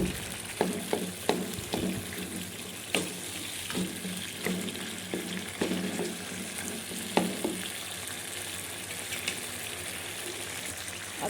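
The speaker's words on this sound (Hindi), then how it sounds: "हम टमाटो को इस तरह से इसमें मैश कर देंगे।" Tomatoes being mashed in a chicken karahi pan for Peshawari charsi kadhai, repeated soft squelching presses and scrapes over a low sizzle, spaced irregularly and fairly close, with no voice.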